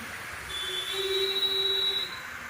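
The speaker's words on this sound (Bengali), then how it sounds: "উপরে দিয়ে যাচ্ছে ভাই মেট্রো" A metro train passes overhead in Jaipur, India, with a steady rumble and a high, sustained wheel squeal that rises and fades over a couple of seconds.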